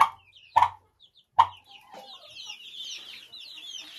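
Chickens cluck near a feeder set on bricks, with a few sharp close clucks early on, then a busier run of higher chirping calls from the flock.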